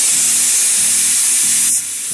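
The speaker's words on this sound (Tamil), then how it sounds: "இது ஒரு விசில் வந்துடுச்சு." Pressure cooker whistle releasing steam while foxtail millet pulao cooks, a loud continuous jet-like hiss that cuts off near the end, with a pulsing low hum underneath.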